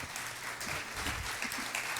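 Audience applause at a Spanish-language church service, a brief steady wash of clapping from a crowd, moderately loud and continuous with no voices over it.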